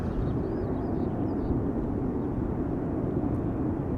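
A fixed-wing airliner performs a go-around over the center runway at Schiphol Airport, heard as a steady, broad jet roar that holds constant and fairly loud throughout, with faint high chirps in the background.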